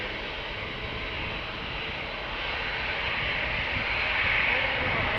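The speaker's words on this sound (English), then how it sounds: "This is a 7478 freighter." A twelve-year-old Atlas Air Boeing 747-8 freighter departs Amsterdam Schiphol with a broad, hissing jet roar that grows steadily louder as it passes close by.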